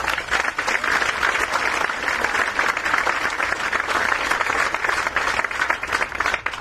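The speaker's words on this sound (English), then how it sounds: "Give them a round of applause." Audience applause at a main library groundbreaking ceremony, steady dense clapping from a crowd that fills the whole stretch at an even, loud level without letting up.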